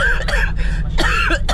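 Several harsh, close coughs come in quick bursts inside a van, with a low rumbling hum underneath.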